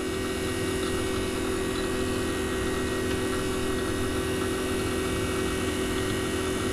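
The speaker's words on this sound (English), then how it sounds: "I'm just gonna let that keep pulling the vacuum." A Fieldpiece vacuum pump runs with a steady, loud mechanical drone and constant hum, without change throughout and no voices.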